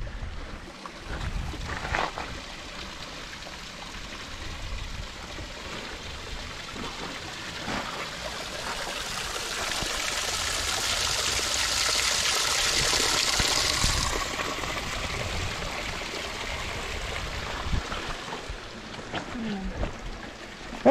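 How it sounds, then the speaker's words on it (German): Small mountain spring in the Karwendel range in the Austrian Alps near an alpine hut, a steady soft trickling and rushing of water that swells in the middle, with faint outdoor noise and occasional movement around it. "vor dem Grammeier Hochleger haben wir eine kleine Wasserquelle"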